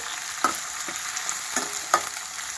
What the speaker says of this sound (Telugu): ఇది మనకు మిర్చి కొంచెం ఫ్రై కావాలి.